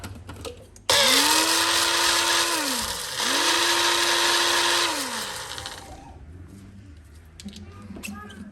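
An electric grinder coarsely crushes whole coriander seeds and spices in two loud, close whirring bursts. Each burst rises in pitch, holds steady, then winds down. Quieter kitchen handling noises follow.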